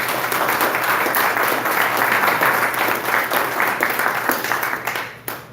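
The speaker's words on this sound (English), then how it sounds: "Let's give her a big round of applause." An audience at a George Floyd forum breaks into sustained, dense applause, loud and steady across the room before it thins and fades at the end.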